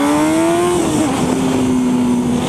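A Honda CBR600RR 600cc sport motorcycle being ridden, its engine droning steadily close by with a brief drop in pitch as revs shift, continuous wind-like rush throughout.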